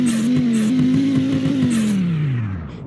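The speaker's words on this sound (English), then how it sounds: "And even just to rev this car, it's so fun. Just the sound of the turbo here." A turbocharged car revs in the video game Greenville, holding a loud, buzzy engine note that rises and wavers, then drops away as the revs fall, ending in a brief hiss.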